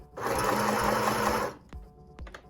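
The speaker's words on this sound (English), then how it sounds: "I'm going to sew that down and forward stitch" A sewing machine runs fast, stitching a fabric face mask for about a second and a half as a loud, close, steady whirring burr, then stops, followed by a few soft handling clicks.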